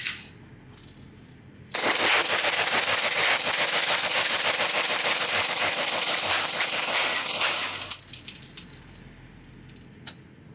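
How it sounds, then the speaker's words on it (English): Integrally suppressed B&T SPC9 SD pistol-caliber carbine with a Glock lower firing a rapid mag dump at a range, a fast continuous burst of muffled shots lasting about six seconds, close and loud, then falling quiet. "So I'm going to load up one of these mags to capacity and just do a quick mag dump."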